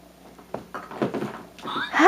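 A cat rummaging behind a desk makes soft knocks and thumps, like something being bumped or a cupboard shifting, then a short higher-pitched cry near the end. Faint and close, with no talk.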